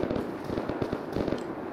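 Rapid bursts of gunfire in the survival video game Rust crackle in quick clustered pops, moderately loud and steady, with no talk over them.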